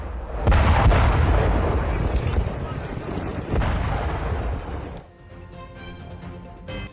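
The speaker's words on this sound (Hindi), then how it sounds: "जोरदार विस्फोट हुआ है, कई धमाके किए गए हैं" Heavy booming bomb explosions roll one after another, deep and rumbling, with a dense roar between them before the sound cuts to a quieter background.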